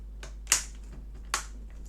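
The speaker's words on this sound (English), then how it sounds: "Can clip this keyboard in place." A laptop keyboard being snapped into its clips, two sharp plastic clicks about a second apart, close and crisp against a quiet room with a low steady hum.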